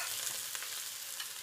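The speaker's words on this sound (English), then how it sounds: "Then I will start with frying the beef together." Onions and beef sizzling and being stirred in a hot pan for Myanmar beef curry, a brief steady frying hiss with light scraping.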